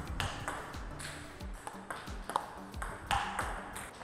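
A table tennis ball bounces repeatedly off a paddle fitted with Hybrid MK or MX-P rubber, making crisp, close pings in a steady rhythm about every half second, with faint background sound between hits.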